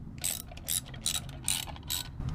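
Ratchet clicking in short bursts as bolts are tightened on the pressure pump of a Land Rover Defender during an LS engine swap, about five quick rhythmic ratcheting strokes, close and fairly loud over a low background rumble.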